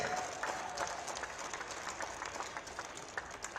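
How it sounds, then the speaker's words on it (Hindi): At a health fair in Lucknow, a crowd applauds to welcome the defence minister; the clapping is faint and distant, a soft patter of many hands that carries on throughout. "जोरदार तालियां बजाई।"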